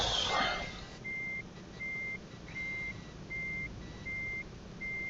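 A reversing truck in Euro Truck Simulator 2 sounds a steady series of six evenly spaced electronic beeps, clear and moderately loud over a low engine rumble, after a brief burst of noise at the start.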